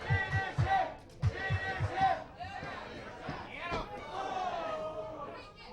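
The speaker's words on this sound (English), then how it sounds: "Crowd's calling for the finish." Fans at a Pro Wrestling Eclipse show chant rhythmically for the finish, with loud clapping beats and shouting while a commentator talks over the crowd.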